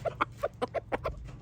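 Backyard chickens clucking in short, repeated bursts, close and moderately loud, with no talking.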